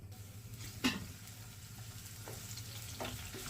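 Chopped onions fry in hot oil with a soft, steady sizzle, broken by a few clacks of a utensil against the pan.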